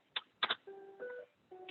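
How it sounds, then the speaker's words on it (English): A phone rings faintly over a remote meeting connection: a few short chirps, then two-tone electronic beeps in a brief repeating pattern, thin and distant. "It was asking if I could hear a ringtone."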